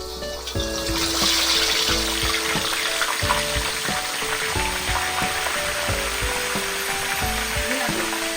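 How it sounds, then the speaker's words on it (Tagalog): Rohu fish frying in hot oil gives a loud, steady sizzle with crackling and spattering that runs the whole time, with no talk over it. "Ayan, ipinrito na ang rohu fish."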